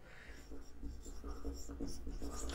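Chalk scratching across a board during a maths lecture, a busy, rhythmic stream of rubbing strokes heard close and fairly loud, with no talking over it.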